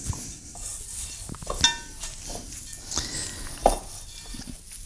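Buttery white bread dough being mixed and blended in a bowl: soft, sticky stirring and squelching with a few light scrapes and clinks, close up, without talk.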